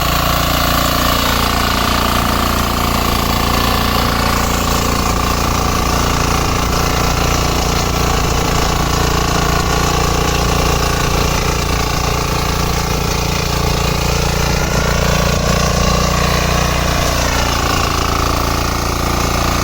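A 13 HP back-rotary power weeder engine runs loud and steady the whole time, a constant mechanical chugging roar close by with no voices.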